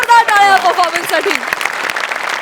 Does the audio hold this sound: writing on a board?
no